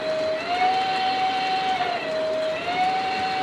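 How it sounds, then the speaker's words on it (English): A steady tonal train whistle, a Banshee-style hooter, sounds continuously with a slight wavering pitch over a broad background rumble during a snowstorm. "Heard the Banshee whistle."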